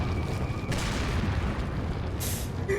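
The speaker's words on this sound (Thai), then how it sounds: "ระเบิดแม่งทำงาน" A bomb explodes in the video game Resident Evil 4, a loud, sustained rumbling boom that fills the whole clip and ends in a sharp crackle.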